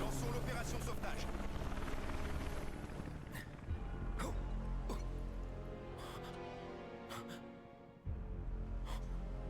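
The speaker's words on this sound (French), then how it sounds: "Ici l'hélicoptère Avalanche 3." A helicopter from the video game Final Fantasy 7 Remake roars loudly at first, its rotor rumble fading gradually while a few sharp sound effects punctuate the game audio.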